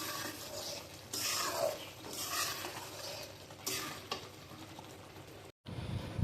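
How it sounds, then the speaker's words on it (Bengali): Zarda pulao, a sweet rice dish, cooking in a pan, with soft continuous sizzling and several scraping strokes of a spoon stirring the rice, ending in a brief gap and a clatter. "এখন একটু জর্দা পোলাও রান্না করে নিচ্ছি।"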